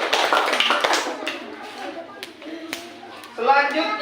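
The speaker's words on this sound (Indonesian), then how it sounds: "kasih aplaus dulu, tepuk tangan untuk kelompok 1" Children in a classroom clap for a group of classmates, with scattered handclaps under lively talking and a brief burst of clapping near the end.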